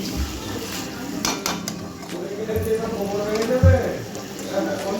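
A single metallic clank as a lid settles onto a pot of chicken curry, with low kitchen clatter and a voice talking underneath.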